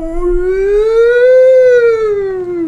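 A baby's cry in the horror video game F.E.A.R. sounds like a siren: one loud, drawn-out, tonal wail that rises slowly, peaks and falls again, alone and close.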